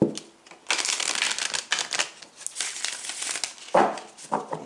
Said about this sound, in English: let's shuffle these cards one more time, and then we might cut them